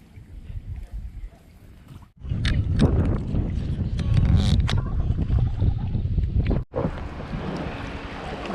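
A kayak moves across open water in the Florida Keys, with strong wind buffeting the microphone and splashy paddle and water noise that cut out briefly twice.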